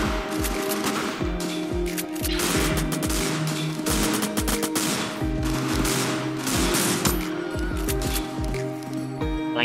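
Rapid, loud bursts of video game shotgun fire from a dual shotgun, repeated blasts in quick uneven succession with clattering mechanical sounds between them, filling the whole stretch with no pause.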